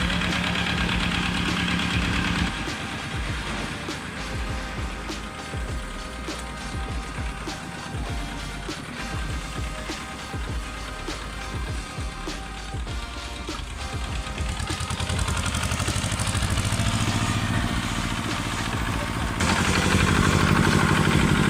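A loud, rough old Lister engine runs continuously with a rattling, knocking chug, close by and steady, growing slightly heavier toward the end.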